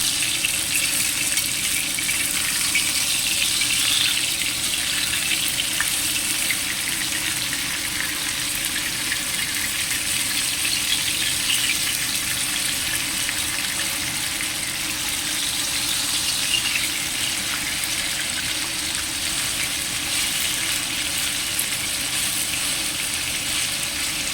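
Chicken with chestnuts frying in a pan, a steady bright sizzle and crackle that holds at an even level throughout, close and continuous with no talking.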